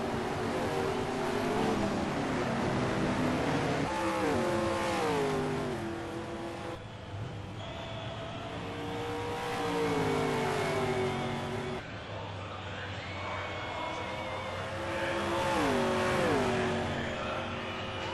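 Touring race cars tear around the Pukekohe circuit in New Zealand, engines revving hard with rising and falling pitch as several cars pass by in quick succession, loud and continuous throughout.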